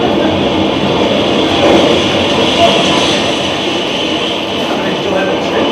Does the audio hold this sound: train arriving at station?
yes